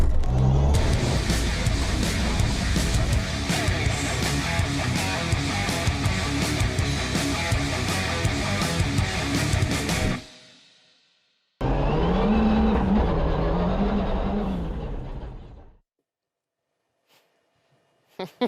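A car takes a lap of a racing circuit, its engine roaring loudly and steadily for about ten seconds, then again with a rising and falling engine note before cutting off into near silence.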